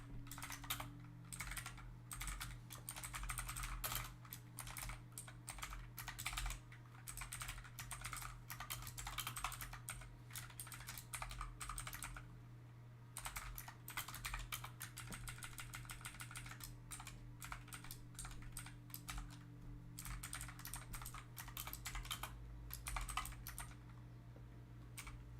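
Fast, continuous typing on a computer keyboard while writing Unity movement code, dense rhythmic key clicks over a steady low hum, with a couple of brief pauses.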